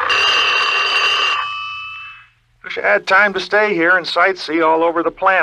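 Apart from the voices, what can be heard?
warning bell on a time machine, sound effect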